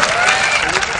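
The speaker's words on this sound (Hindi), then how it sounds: "भाई साहब के लिए जोरदार ताली बजा दीजिए" A comedy poetry audience clapping, a brief dense burst of applause from a crowd, loud and close, lasting about a second, with a voice mixed in.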